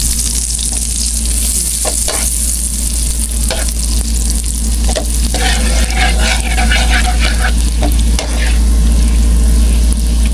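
Butter sizzles and fries in a pan for goat kaldereta, with continuous crackling and repeated scraping stirs close up.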